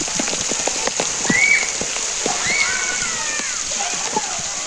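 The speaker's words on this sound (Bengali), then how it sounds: "যে পানিটা আছে সেটা হচ্ছে সাপের মুখ থেকে আসতেছে" Water splashes steadily from a snake-mouth spout at a water park, a continuous bright spatter close by, with children's voices and chatter mixed in.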